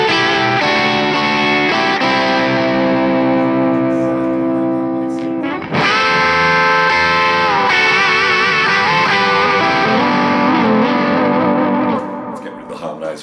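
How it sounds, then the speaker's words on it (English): Distorted electric guitar lead played through an overdrive patch on a BOSS GT-1000 multi-effects unit, with sustained, singing notes and bends that ring loud and continuous, and a brief break near the middle. "let's just listen then to what that overdrive pedal sounds like. This is my go-to lead tone on this patch."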